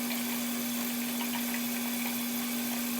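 A tap runs hot water for hand washing, a steady close hiss of flowing water with a constant low hum underneath and no talking.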